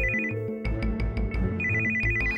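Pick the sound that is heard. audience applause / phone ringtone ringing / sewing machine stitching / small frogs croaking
phone ringtone ringing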